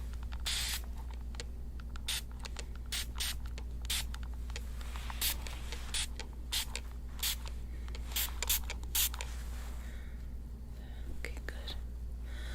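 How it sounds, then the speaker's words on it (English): Water is sprayed onto a cold tissue in a quiet close-up, with a series of short, crisp spritzes in an uneven rhythm over a low steady hum. "spray water into it"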